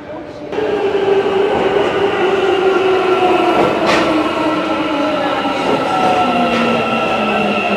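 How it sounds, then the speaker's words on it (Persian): An Istanbul Metrobus rolls along with a loud, continuous rumble and whining tones that rise and fall, starting abruptly just after the first half second and carrying on steadily. "متروبوس."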